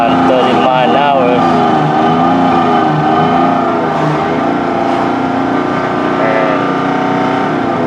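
A car with a random misfire and lack of power drives along at around 30 mph, its engine droning loud and uneven with rough, wavering tones throughout; a voice speaks faintly over it.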